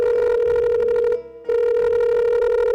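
A telephone ringback tone plays during a call, a steady electronic tone that breaks briefly in the middle and then resumes, loud and alone with no voices over it.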